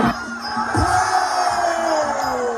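Loud crowd cheering and shouting at a Muay Thai fight, a dense roar of many voices holding steady across the whole stretch with a few sharper whoops rising out of it.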